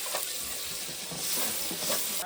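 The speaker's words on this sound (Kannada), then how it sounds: "ಅದ್ರ ಮೇಲೆ ಇವಾಗ ಫ್ರೈ ಮಾಡ್ತಾ ಇದ್ದಾರೆ." Frying on a pan set on top of a sealed dum biryani pot in a home kitchen, a steady close sizzle with faint stirring scrapes throughout.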